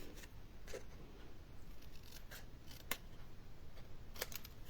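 Scissors cut through a paper card in a row of short, crisp snips, close and fairly quiet, with a few sharper clicks scattered among them.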